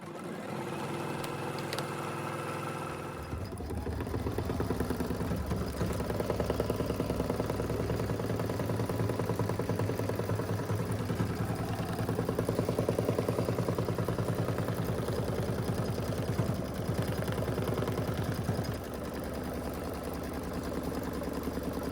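An embroidery machine stitches a zipper pouch with a fast, steady mechanical whir and clatter. It starts up after a brief quiet moment and then runs continuously at close range.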